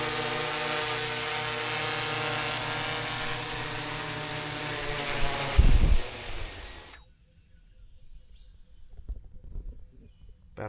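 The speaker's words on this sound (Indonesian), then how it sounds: "Jadi drone-nya lagi balik nih." A drone flying back over a forest, a steady high-pitched buzzing whine that holds for several seconds, swells briefly, then cuts out, leaving quiet forest ambience.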